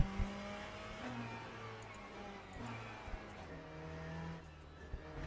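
Race car engines in a racing video game, droning and shifting pitch as cars rev and pass, with a few sharp clicks and knocks over a steady mid-level roar and no voices.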